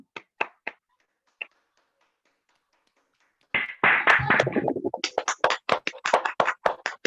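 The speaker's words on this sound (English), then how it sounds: "please, I would like us to unmute our microphones and applaud TM Olube" Toastmasters members in an online meeting clap over unmuted microphones: a few scattered taps, a pause, then a close, uneven burst of hand claps that breaks into separate sharp claps.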